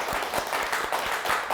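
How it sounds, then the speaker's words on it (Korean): An audience at a televised lecture claps together in a dense, steady burst of applause that fills the short moment. "박수."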